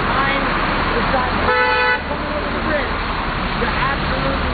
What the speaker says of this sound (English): I got another honk.